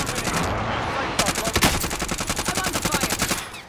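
Rapid automatic gunfire from a first-person shooter video game, a steady burst of evenly spaced, loud shots after a short stretch of background game noise.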